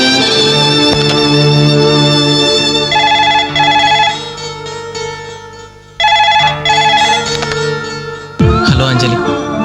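A telephone rings repeatedly with a bright electronic ringtone in steady bursts and brief pauses, loud and close, in a dramatic scene from a Telugu film.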